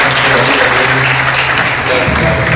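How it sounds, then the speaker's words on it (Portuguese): A church congregation claps loudly and continuously in praise, the dense applause filling the room throughout with a low voice or hum faintly underneath. "Vocês podem aplaudir também de maneira legal ao Senhor."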